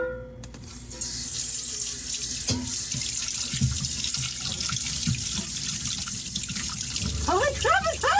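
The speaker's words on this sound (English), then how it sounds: "I'm going to try the hot water heater. And it's going to be my first time using it to do dishes." Hot water runs from a tap into a sink for washing dishes aboard a boat, a steady splashing stream that starts after a quiet moment and continues with dripping, while a person reacts audibly near the end.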